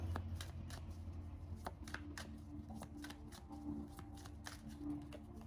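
Tarot cards being shuffled by hand, a steady run of crisp riffling flicks and soft slaps at close range, with a low steady hum underneath and no talking.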